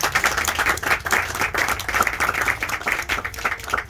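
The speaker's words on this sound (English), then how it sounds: "I believe that deserves a hand clap." A crowd applauds steadily, with dense overlapping hand claps that continue without pause.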